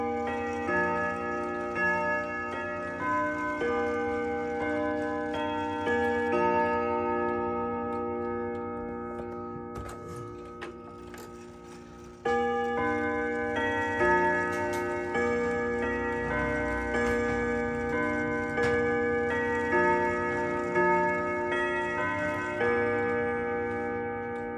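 A rare antique Swiss clock strikes its bell in a long series of sustained, ringing chimes, loud and close, with ticking beneath and a brief dip before the strikes resume.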